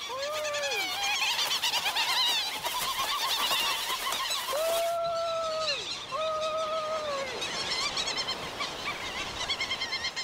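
Providence petrels on a small island plateau crowded with nesting birds call in loud, overlapping wailing cries, several drawn-out rising and falling notes standing out close by over a dense chorus of the colony.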